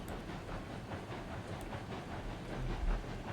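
A train runs in the RailRoads Online video game, a faint, steady rolling rumble with soft rhythmic clatter and hiss, distant and continuous without speech.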